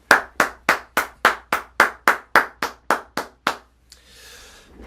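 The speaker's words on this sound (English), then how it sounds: "I think we should get a little standing ovation." About a dozen evenly spaced, sharp hand claps from a small group at a science and technology fair awards ceremony, loud and close, ending abruptly before a faint stretch of background noise.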